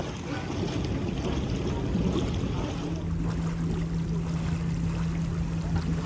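A quiet electric boat glides across an alpine lake, its soft hum nearly lost beneath steady wind rush and gentle lapping water, with a faint low tone emerging partway through.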